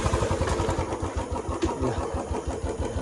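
A motorcycle engine fires up and settles into a steady, close idle with a rapid pulsing thump, with no talk over it.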